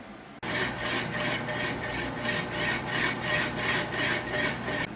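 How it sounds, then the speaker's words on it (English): A lathe bores out the throat of an intake manifold for a Mikuni 44 carburetor on a Kawasaki X2 650 motorcycle, a steady close grinding rasp with a faint regular pulsing, starting abruptly and running on without talk. "I've got a lathe, so I just bolted it up to the turning plate. We'll take that out nice and accurate"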